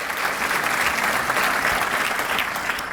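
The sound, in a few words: audience applause for college presidents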